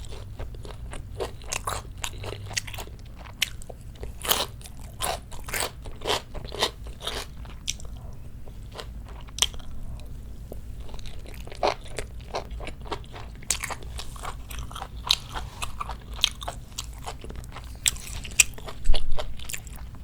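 Ponytail radish kimchi is bitten and chewed up close during a Korean mukbang, eaten alongside pork bulgogi lettuce wraps. Sharp wet crunches repeat in an uneven rhythm over a quiet background, with no talking.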